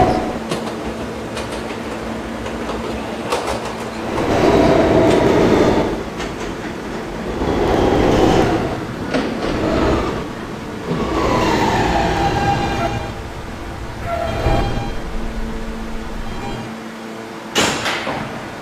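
Kawasaki R160 New York subway car with Siemens propulsion, E line train, running with a rumbling, clattering ride and surging motor whine, wheels clicking over rail joints, door chimes and sliding-door sounds near the end.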